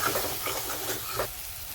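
Red chili powder and turmeric sizzle in hot oil in a pan, a steady close frying hiss with faint stirring scrapes throughout.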